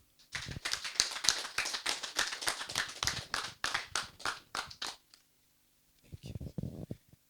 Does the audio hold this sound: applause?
yes